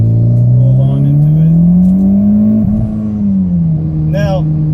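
A 2014 Mitsubishi Evolution MR engine revs up after a downshift, its rising tone building steadily and close-up as the car accelerates, then dipping briefly and settling into a strong sustained drone.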